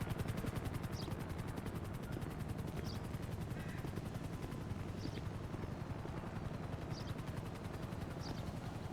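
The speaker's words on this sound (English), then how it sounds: "Alright, chopper. Air support." A police helicopter hovers overhead in a video game patrol, its rotor chopping steadily and loudly throughout, with sharp bursts cutting through the drone every couple of seconds.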